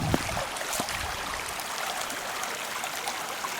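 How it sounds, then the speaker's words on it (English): A babbling brook at a backcountry canoe camp on Lake Superior, giving a steady, close rush of flowing water with no voices over it. "Lucky me, I get to listen to this babbling brook"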